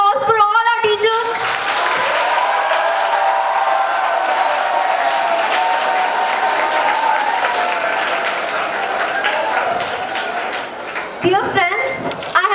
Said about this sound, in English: can we have a huge round of applause for all our teachers?